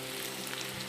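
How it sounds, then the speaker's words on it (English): Onions sizzle in hot smoking oil, a faint, steady crackling hiss that runs continuously without any talking over it. "You can hear it sizzling."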